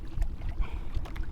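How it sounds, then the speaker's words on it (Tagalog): Strong gusting wind at sea, stirred by a distant typhoon under cloudy skies, with low rumbling buffets and broadband whooshing hitting the microphone in uneven bursts throughout. "medyo malakas na talaga yung hangin. Dulot ng bagyo"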